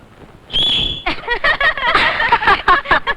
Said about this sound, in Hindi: कमाल है, लड़की सीटी बजाती है।